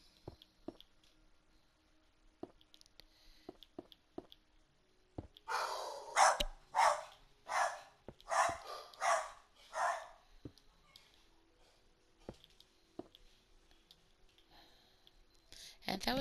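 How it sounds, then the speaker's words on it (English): Dogs bark in a run of about six loud, rhythmic barks at mid-distance, then fall quiet, with faint clicks and small handling noises before and after. "And that was my dogs freaking out."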